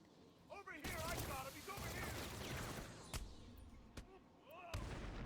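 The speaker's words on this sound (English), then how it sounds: "Who's shooting at me?" Gunfire in Batman Arkham City, military-style shooting aimed at Batman: a continuous loud barrage with a few sharper cracks standing out, mixed with voices and effects throughout.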